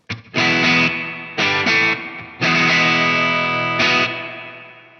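Distorted electric guitar chords through a Line 6 HX reverb effect ring out with a spacious reverb tail, each strum decaying smoothly rather than stopping dead.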